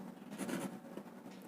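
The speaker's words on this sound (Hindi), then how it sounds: "तो यहाँ लिखेंगे" Pen or pencil scratching across paper while working out a math problem, a short quiet stretch of brisk writing strokes with no talk over it.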